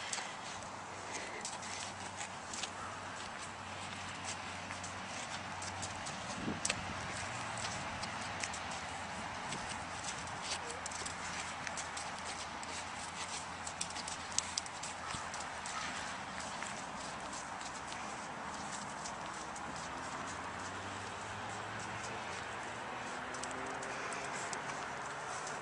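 Hooves of Cayman, a horse ridden bareback, clip-clop faintly in a steady walking rhythm beneath a constant outdoor hiss, distant and soft with no clear talk.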